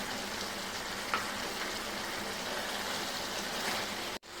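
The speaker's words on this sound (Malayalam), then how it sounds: "നമുക്കിതിലേക്ക് രണ്ട് മീഡിയം തക്കാളി ചേർത്ത് കൊടുക്കാം" Tomatoes fry in a pan for pepper chicken fry, a close, even hissing sizzle with a faint stir partway through, cut off abruptly near the end.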